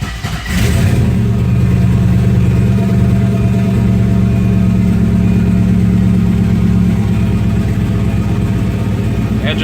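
Volvorado truck engine, a Volvo-engine swap, cold-starting in freezing weather: a cranking burst, then a loud steady rough idle close by, running throughout.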